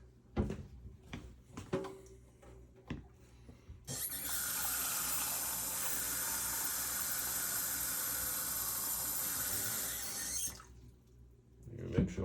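A kitchen sink tap runs steadily for about seven seconds, a loud, close, even gush of water that stops abruptly. Brief clunks and handling knocks come before and after it.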